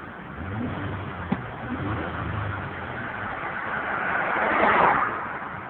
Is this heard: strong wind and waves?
no